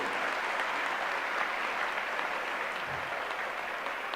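An assembled audience at a national-themed spiritual retreat gives a standing ovation in honour of a general, a dense, even wash of clapping from a large crowd in a reverberant hall.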